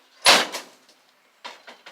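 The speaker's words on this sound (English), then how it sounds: "Door testing, the 1959 Morris Minor." A 1959 Morris Minor car door shuts with one solid, close thump, followed by a couple of faint rattles and clicks as the latch settles.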